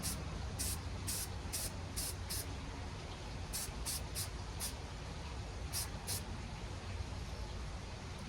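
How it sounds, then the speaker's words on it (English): Short bursts of white spray paint hissing from an aerosol can onto a taped tumbler, about a dozen quick close puffs in irregular clusters over a steady background hum. "when I was doing all the spray painting"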